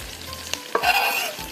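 Vegetables tipped into a hot pan of masala spaghetti with the stove turned off, giving a short burst of sizzle and stirring that swells midway and settles, close and fairly loud with no voices.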